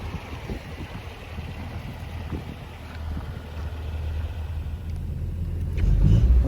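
A 1968 Volvo P1800S with overdrive idles steadily, its engine giving a low, even rumble that grows slightly louder toward the end, with some wind noise and no talking.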